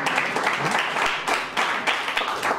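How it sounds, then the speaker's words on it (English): An audience applauds steadily, a dense wash of many hands clapping at close range, with slight swells in intensity and no voices standing out. "But all the rest, Allison, you can clap."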